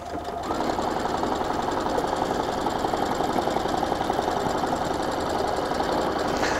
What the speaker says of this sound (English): while I'm sewing through these columns